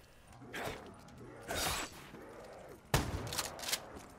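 Shotgun blasts in Black Ops 3 Zombies, three booming shots a second or so apart, each with a short rattling tail, fairly close and moderately loud.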